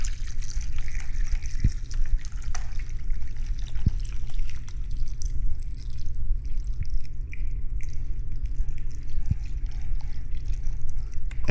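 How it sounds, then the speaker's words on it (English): Beef broth pours into a cooking pot as a continuous liquid trickle with occasional drips, over a low steady kitchen hum. "Here's the beef broth going in."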